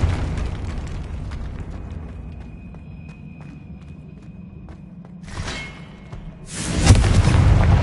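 Confringo fire spell in Hogwarts Legacy: a low rumbling blast with crackling pops, then after a lull two sudden roaring fiery bursts that swell loud and close near the end.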